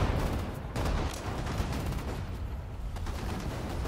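Gunfire from Sudden Strike 4, a WWII strategy game featuring the Afrika Korps, crackles in quick, rattling bursts of rifle and machine-gun fire over a low rumble, fairly quiet and steady throughout.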